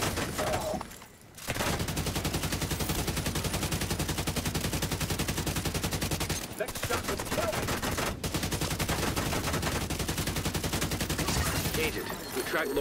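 Video-game gunfire, dense rapid bursts of automatic weapons firing almost without pause, loud and close, broken by a couple of short gaps.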